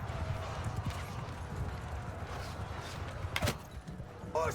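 Cavalry horses move across a battlefield in a siege-defence strategy game, their hooves making a steady clip-clop of overlapping footfalls against a low battle rumble, with a sharp clatter near the end.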